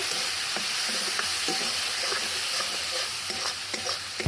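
Spices with chilli, a pinch of sugar and turmeric sauté in a pan for a traditional raw banana curry, with a dense continuous sizzle and light intermittent stirring scrapes close by, and no talking.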